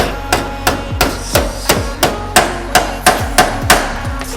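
A hammer smacks a metal tab out of the way on a 2005 Subaru WRX STI during a horn install, about a dozen sharp, loud metallic blows in a fairly steady rhythm, close up and with no talking.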